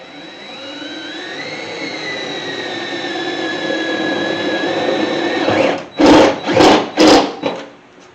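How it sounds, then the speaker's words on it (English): Power drill boring holes in metal on a 1981 Chevy C30 dually truck: a steady, rising motor whine held for several seconds, then choppy bursts as the bit bites and releases. "Drilled that to 5/16."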